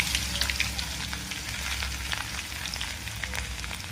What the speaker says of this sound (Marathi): मोहरी तडतडली की लसूण टाकून घेऊ